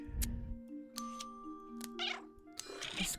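A few brief cat mews from the tidying puzzle game A Little to the Left, rising over gentle chiming game music, near and clear, with no one speaking.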